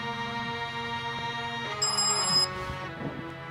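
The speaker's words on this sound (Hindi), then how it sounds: "ये उसी का फोन है।" A mobile phone ringtone plays a steady electronic melody with a brief brighter chiming passage, loud and close with no talking.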